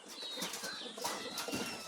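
Homing pigeons released into the air, their wings flapping in a busy flurry of close, soft beats across a short burst, with faint bird calls around.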